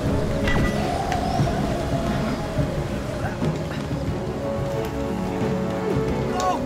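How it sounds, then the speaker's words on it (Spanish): Steady rain with a distant thunderstorm rumble in the video game It Takes Two, a continuous wash of falling water under ongoing talk. "Ahora la tormenta no acaba."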